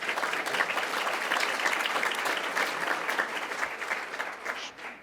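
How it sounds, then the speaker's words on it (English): An audience at a climate solutions event gives the League of Women Voters a warm, even round of applause that holds for a few seconds and then fades toward the end, with no speech over it. "Let's give them a big round of applause."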